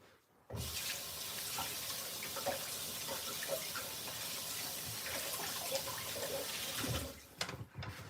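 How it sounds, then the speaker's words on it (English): Hands are rinsed under a running kitchen tap: water gushes on abruptly and pours steadily for several seconds, close and fairly loud, then cuts off with a few splashes and drips. "I'm gonna rinse my hands real quick."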